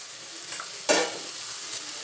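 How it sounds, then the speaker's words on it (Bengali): Shrimp, potato and jackfruit tipped into hot, oil-rich masala sizzle steadily, with a sharp burst of frying as the pieces hit the pan, then settling back to a soft, continuous crackle. "এবার আমি ভেজে রাখা চিংড়ি মাছ আলু তারপরে কাঁঠাল সব দিয়ে দিলাম"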